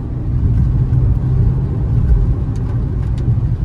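A Fiat Mobi Like 1.0 from 2023 rumbles steadily from inside the cabin while accelerating in city driving, its low engine drone holding for several seconds and sounding loud and close, with no talking.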